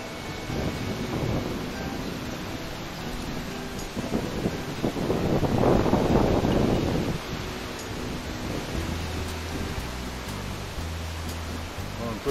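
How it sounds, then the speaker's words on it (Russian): Strong, gusty wind sweeps across an open bog in stormy weather, a broad whooshing roar that swells into a louder gust midway and then eases, with rustling and low rumbles of wind on the microphone. "А ветерок вот не на шутку разгулялся."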